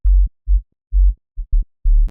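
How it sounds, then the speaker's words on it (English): A plain sine-wave sub bass from a house track plays a series of short, deep, clean pulses in a syncopated rhythm with gaps of silence between them, and no other instruments. "And then the sub is just a simple sine wave"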